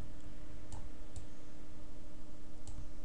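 Mouse clicks on a computer while working in Virtual Drum Electro Pro drum software: three or four sharp, isolated clicks spaced irregularly over a steady low hum.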